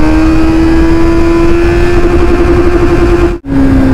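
Motorcycle engine accelerating in first gear, a loud steady mid-pitched drone with a rising tone, briefly cutting out near the end as the gear changes.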